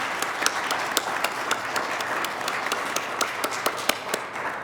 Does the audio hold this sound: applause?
yes